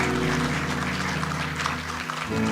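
Applause for a competition winner at a Skill Week 2024 closing ceremony, a steady, dense crowd clapping over sustained music throughout.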